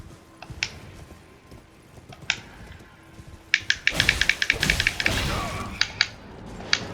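Hollow rhythmic hoofbeats of a galloping horse in Elden Ring, loud and close, mixed with metallic clicks and game effects.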